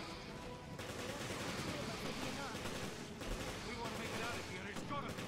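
Continuous gunfire in the zombie shooter Resident Evil Revelations forms a dense, steady wash of shots, fairly faint and without pauses.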